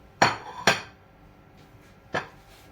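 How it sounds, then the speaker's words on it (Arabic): Three sharp knife chops on a cutting board, two close together then one after a pause, as chicken gizzards are cut into small pieces beside chopped onion; loud, near, with no talk. "اول ما اقطع بس القوانص كده بقطعها انا كده حتت صغيره"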